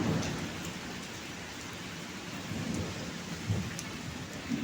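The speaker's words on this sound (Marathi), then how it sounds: "आता हा दुसऱ्यांदा खूप चांगला पाऊस आलेला आहे" Steady, dense downpour hissing continuously, with a low rolling rumble of thunder underneath; no voices.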